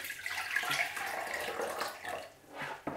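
Water pours and trickles steadily, splashing and draining through a potted Dendrobium orchid close by, with gurgling bursts toward the end.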